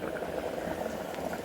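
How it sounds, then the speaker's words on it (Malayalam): A pot of Kerala-style fish curry with sardines simmers at a rolling boil, a close, continuous bubbling and gurgling with no speech over it. "ഇനി ഇത് നന്നായി ഒന്ന് തിളച്ച് വേവട്ടെ"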